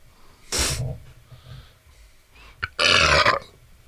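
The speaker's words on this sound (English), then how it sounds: "Belch." A loud, close belch bursts out once, followed a couple of seconds later by a second, longer and louder belch, with only quiet room noise between them.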